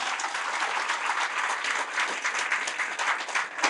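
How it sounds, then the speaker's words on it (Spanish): A church congregation claps loudly and steadily for several seconds, a dense continuous roar of many hands with no voices standing out. "Fuertes aplausos al Señor Jesús."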